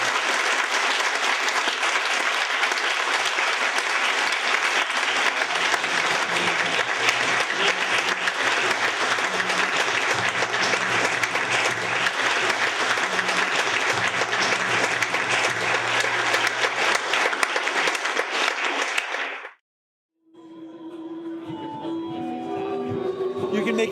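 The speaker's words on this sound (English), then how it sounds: "let's give a big round of applause to our panel" An audience gives a panel of synthesizer pioneers a long round of applause, loud dense clapping that stops abruptly, followed by a brief quiet stretch and faint sounds from the stage.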